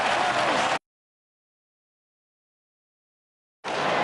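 Crowd at a 2014 Round 5 AFL match between the Swans and Dockers at the SCG rises with a loud roar in two short bursts, separated by a stretch of dead silence.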